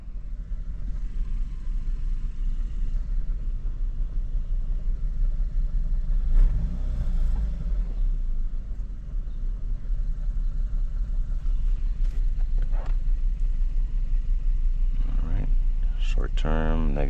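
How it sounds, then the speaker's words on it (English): A car with a GDI engine idles with a steady low rumble and revs up briefly a few times, with people talking over the engine noise. "We're just gonna rev a little bit."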